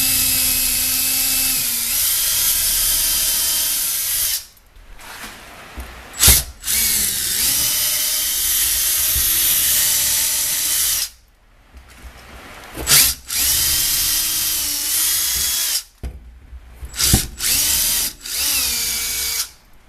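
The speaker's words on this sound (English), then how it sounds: "you're just going to drill your pilot holes like so" A power drill runs loud and steady in long sustained bursts drilling pilot holes in a wall for a TV mount, its motor pitch dipping under load, with brief pauses between runs.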